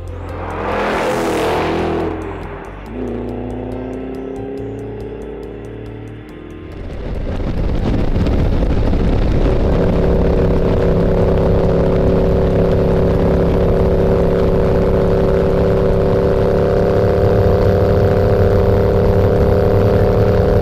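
A 2013 Ford Shelby GT500 on a track before sunrise approaches and then holds a steady high-speed drone, the supercharged engine's loud roar rising and settling into a sustained tone mixed with wind rush.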